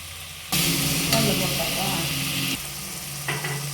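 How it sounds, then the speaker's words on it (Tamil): Ginger garlic paste hits hot oil in a mutton kuzhambu pan and bursts into a loud, close sizzle that eases after a few seconds, with a brief stir-like rise near the end. "இஞ்சி பூண்டு பேஸ்ட்டு நல்லா வதங்கட்டும் ஃப்ரெண்ட்ஸ்."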